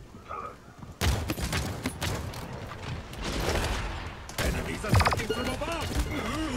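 Rapid revolver gunfire from the character Androxus in the Paladins video game, with bursts of shots and impacts stacked densely throughout, while voices talk over the action.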